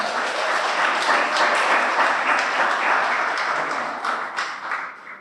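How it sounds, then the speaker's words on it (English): Audience applause at a water safety day event, a broad steady wash of clapping from many hands that holds evenly and begins to thin out near the end. "Big round of applause for my friends."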